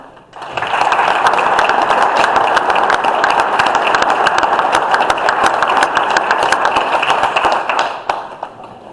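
Sustained audience applause at a general meeting, as a speaker heads to the podium: dense, steady clapping for about eight seconds, loud and close, then tapering off, with no talk over it.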